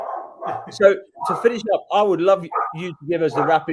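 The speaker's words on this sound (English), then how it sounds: "And you can bring your dog with you. Yeah. He's barking in the background," A dog barks in the background while someone talks over it during an online meeting, with short yips breaking through the steady conversation.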